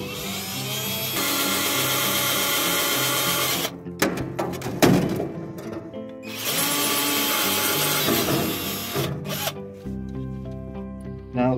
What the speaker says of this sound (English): let's get in here and get to drill this